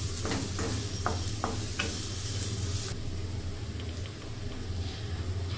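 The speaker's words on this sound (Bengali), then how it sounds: "পেঁয়াজটাকে একটু হালকা করে নাড়াচাড়া করে নিচ্ছি" Onion being stirred as it fries in a pan for shrimp malai curry: a soft, even sizzle with a few light scraping taps early on, quiet and close, no talking.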